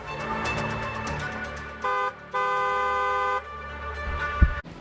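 A car horn honks twice, a short blast then a longer one, loud and close over a running engine.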